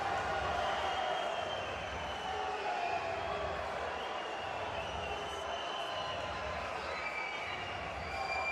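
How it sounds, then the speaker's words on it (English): An arena crowd at a fencing world championship bout murmurs and jeers in a sustained wash of displeasure after a video replay, steady and moderately distant. "Crowd are not happy having seen the video."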